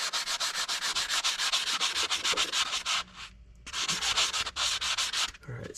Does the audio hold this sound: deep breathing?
no